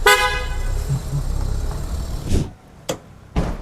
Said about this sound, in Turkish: Ne güzel bir can alıcı kornası vardır.